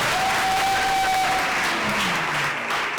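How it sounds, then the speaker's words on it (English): A crowd at a student music gathering in Nyundo greets a singer's lead guitarist with dense, sustained clapping and cheering, loud and close, with a thin whistle rising above the applause. "So let's make some noise for Teddy."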